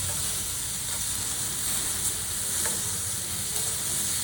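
Vegetables fry in oil in an iron kadhai for spicy vermicelli, giving a steady, close sizzle with a bright hiss throughout and faint stirring scrapes, no voices.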